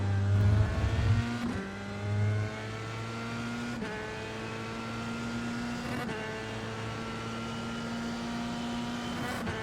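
A Dallara F3 race car's engine screams at full throttle in iRacing, a steady high-pitched whine climbing through gears with brief dips at each upshift, loud and close and alone.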